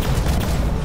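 Robot weapons in the War Robots video game fire a brief, dense, loud burst of rapid gunfire that fills the whole moment without a break.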